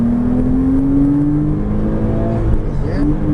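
A Porsche Cayman S accelerates hard on a race circuit, its engine note rising steadily and loudly from inside the car, with an upshift near the end and a short dip before the pitch climbs again.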